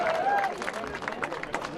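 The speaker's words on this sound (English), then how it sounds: "they are getting a very loud round of applause." Loud clapping and cheering from a crowd of racing team mechanics below a motorsport podium at a circuit, continuous, with a commentator talking over it.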